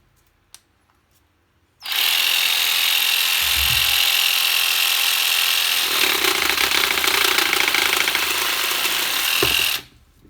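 Parkside 12V cordless pruning saw (FAAS 12 B2) cutting through a tree branch, a loud continuous reciprocating buzz lasting about eight seconds that coarsens midway as the blade bites deeper, starting and stopping abruptly; no speech.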